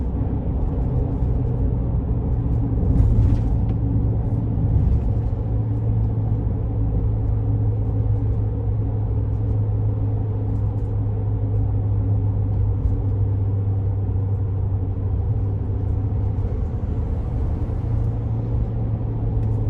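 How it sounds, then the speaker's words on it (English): A 2021 Ford Transit 250 conversion van drives with its turbocharged engine giving a steady, loud, low rumbling drone and a faint whine on top, holding even for the whole stretch with no voices. "I just love that turbo sound."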